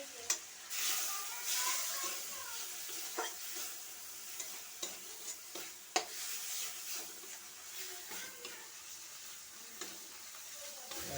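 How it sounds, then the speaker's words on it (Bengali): Spice paste sautéing in a pan with a little ginger water, a steady sizzle under repeated scraping and stirring strokes, close and fairly quiet throughout with no talking. "এখন মশলাটাকে অনেকক্ষণ ধরে একটু কষিয়ে নেব।"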